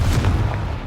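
A Confringo fire spell detonates in Hogwarts Legacy, a deep booming blast with rumbling low end that rolls out and fades over about a second.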